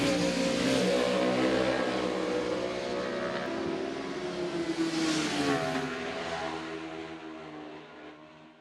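Racing motorcycles on a warm-up lap at the Macau Grand Prix street circuit, a loud sustained engine roar that rises and falls in pitch as the bikes pass, then fades slightly at the end.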